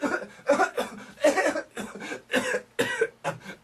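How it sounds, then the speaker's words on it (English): Someone has a coughing fit of about seven harsh coughs in quick, uneven bursts, loud and close, each separated by a short gasp. "Sorry, I had a coughing fit."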